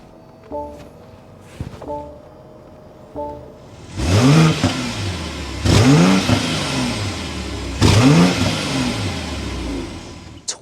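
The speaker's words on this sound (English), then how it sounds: "We need to go inside, start up so you can hear that exhaust note." A 2024 BMW X7 xDrive40i SUV engine cranks briefly a few times, then catches and revs loudly three times in bursts, each rev rising then settling back to a throaty idle.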